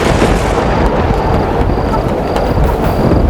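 A storm breaks over a well, with heavy rain and wind forming a dense, steady roar that fills the whole stretch at high volume, with no voices.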